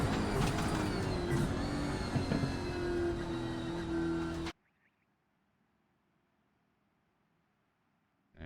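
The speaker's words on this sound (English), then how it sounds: "So we just get to listen to some nice purr from the Camaro." Chevrolet Camaro Supercar engine in the iRacing sim at Mid-Ohio, a steady loud drone for about four and a half seconds that cuts off abruptly into near silence.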